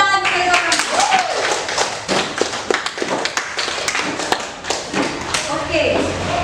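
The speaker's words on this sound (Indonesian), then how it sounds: "Tepuk tangan bagi orang." Students applaud in an Indonesian eighth-grade language class, a burst of uneven claps and thumps ringing out close by, mixed with chatter and a voice.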